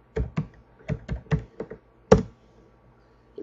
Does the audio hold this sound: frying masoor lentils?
no